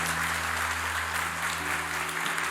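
Congregation applause during a church sermon: a steady, dense wash of clapping that holds at an even level for the whole stretch, with a low electrical hum underneath.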